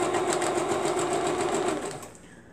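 A sewing machine runs steadily at close range, stitching a quilt block with a fast, even mechanical patter that slows and fades near the end, with no talk.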